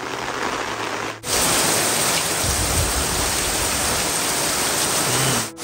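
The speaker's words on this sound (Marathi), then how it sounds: "पाऊस काय थांबायचं नाव घेत नाही" Heavy monsoon rain pours over a Konkan village, a dense, loud, steady roar of downpour with no voices, cutting briefly at the start and end.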